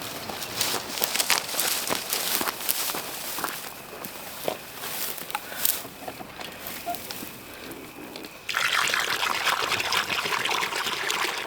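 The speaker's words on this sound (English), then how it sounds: "I'm going to add water" Water trickles and splashes with some rustling and footsteps, then a steadier, louder pour fills a rabbit's water container toward the end.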